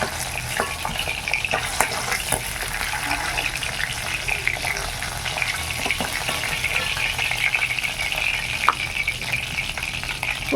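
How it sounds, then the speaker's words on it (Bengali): Hilsa fish frying in hot oil in a village kitchen, a steady dense sizzle with crackle running throughout, with occasional sharper pops and spatters, fairly close. "মাছটা হালকা করে ভেজে নিয়েছি, এবার তুলে নেই।"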